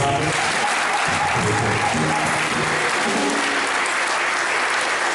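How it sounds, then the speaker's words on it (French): An audience at a church service bursts into sustained, loud applause that stays dense and even throughout, with some crowd voices mixed in. "Acclame très fort pour ça"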